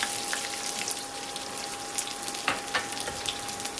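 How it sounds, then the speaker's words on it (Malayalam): Garlic, mustard seeds, fenugreek and curry leaves frying in hot sesame oil, a dense continuous sizzle with sharp spattering pops and crackles, close and fairly loud. "വെളുത്തുള്ളി നന്നായിട്ട് മൂത്തിട്ടുണ്ട്."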